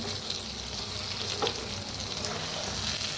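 Okra and potato masala sizzles steadily in oil, a dense continuous frying hiss with a faint stir scrape midway, close and even throughout.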